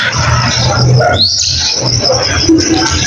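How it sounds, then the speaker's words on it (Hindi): Small birds chirp and tweet in a busy outdoor setting, with short bright calls over a steady background hum. "यहाँ पे बोल रही है चिड़ी और इधर उड़ रहे हैं कबूतर।"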